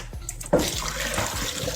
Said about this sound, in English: Drain it using a sieve or colander.